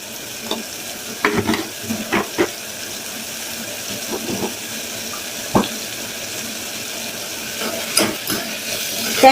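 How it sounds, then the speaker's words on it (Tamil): Onions sauté in a hot pan for coconut milk rice, sizzling steadily while a spoon stirs and scrapes through them in several distinct clanks, close and clear with no talking. "பாருங்க, வெங்காயம் எல்லாம் நல்லா வதங்கிடுச்சு."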